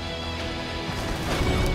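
A Gravity Hammer smash in a game of Halo multiplayer Grifball, a heavy crashing impact amid dense, busy game audio that swells louder toward the end of the short moment.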